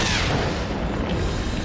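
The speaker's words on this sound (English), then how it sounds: "There's, like, some fucking Path of Exile explosions going on here" Booming explosions from the Witcher 2 video game roll continuously through the whole short stretch, loud and dense, with a deep rumbling low end and no voice over them.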